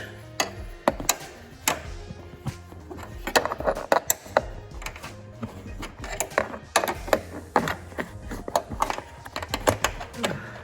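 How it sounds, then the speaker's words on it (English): A ratchet loosens a bolt on the light assembly of a Porsche 718. Close, sharp bursts of rapid mechanical clicking repeat in quick, uneven runs throughout, with no talk. "That's the second bolt that needs to be loosened."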